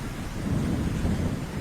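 Rain pours steadily while thunder rumbles deep and loud throughout a short stretch with no voices.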